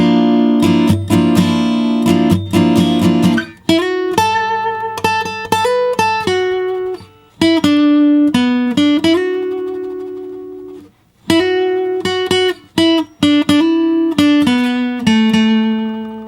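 Solo acoustic guitar plays the lead line of a song slowly, with clear plucked single notes, slides and bends in phrases separated by short pauses, close and alone.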